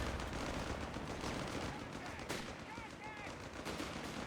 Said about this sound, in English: Now we are seeing multiple grenade launchers across the board here.